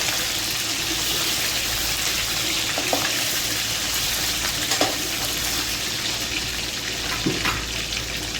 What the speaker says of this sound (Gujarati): તેને આપણે વ્યવસ્થિત ચમચાથી ફેરવી નાખવાના છે, જેથી વ્યવસ્થિત તળાઈ જાય